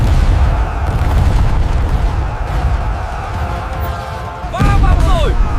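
Cannon fire striking an enemy ship in a 1801 naval battle at Thị Nại lagoon, heavy low booms and rumbling impacts, with a sharp whistling streak near the end.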